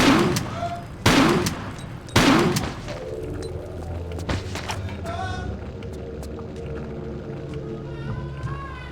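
Three loud, evenly spaced gunshots ring out in Tomb Raider: The Last Revelation, each with a short echoing tail, followed by quieter ambient tones and scattered faint clicks.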